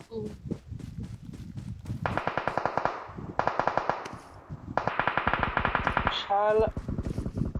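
Rapid automatic gunfire from the mobile shooter game PUBG Mobile, in several sustained bursts of fast, sharp shots, with players talking over the action between bursts.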